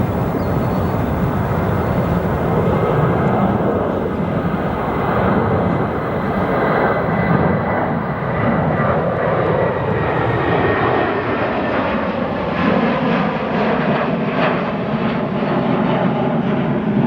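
A Boeing 757-300 jet takes off at O'Hare International Airport at night, its engines producing a loud, continuous roar that swells and then gradually shifts in tone as it climbs away.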